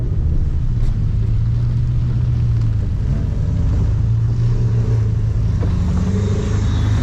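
Ford Mustang drifting on a wet street in the rain, steady loud engine drone and rumble with road and water noise, close-up from inside, no talking.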